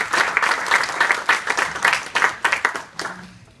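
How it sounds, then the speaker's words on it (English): Audience applause rings out for a staff team at a public meeting, a dense, steady wash of many hands clapping close by, swelling and tapering over a few seconds. "we really got to give Mike and his staff a big round of applause"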